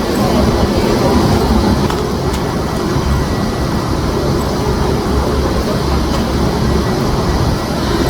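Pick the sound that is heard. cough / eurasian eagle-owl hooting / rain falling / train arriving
train arriving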